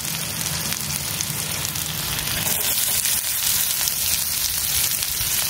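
Chopped garlic, ginger, chili and onion sauté in hot oil, making a dense, steady crackling hiss that stays close and loud from start to finish.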